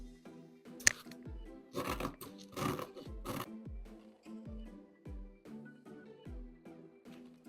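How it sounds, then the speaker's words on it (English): Scissors snip through fabric for Elizabethan funnel corset pattern pieces, giving a run of close, crisp cuts at a steady rhythm with a few louder rustling bursts as the cloth shifts. "So I have my patterns fully pinned. I'm going to cut out every bit."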